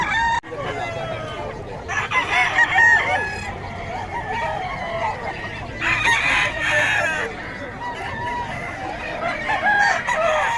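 Chickens and roosters at a poultry farm in Bocaue, with several birds crowing and clucking nearby, loud and overlapping, plus faint background talk.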